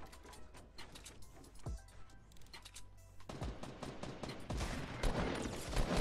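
Video game gunfire in Fortnite: rapid bursts of shots and mechanical clicking, quieter at first, then a dense, louder fusillade of overlapping fire toward the end.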